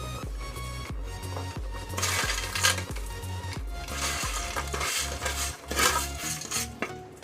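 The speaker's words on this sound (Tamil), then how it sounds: "போட்டு நல்லா மிக்ஸ் பண்ணிக்கோங்க." Cabbage and mushroom for roadside kaalan are stirred in a metal pan, with repeated scraping strokes and sharp metallic clinks of a ladle over a bubbling sizzle, close and steady, with no talk.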